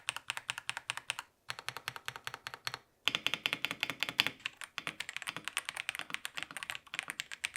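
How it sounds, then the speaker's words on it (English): Rapid, steady typing on a budget mechanical keyboard, dense clicky keystrokes close up with two short pauses, no talking. "it sounds good. It feels good. Again, nothing crazy, but a mechanical keyboard."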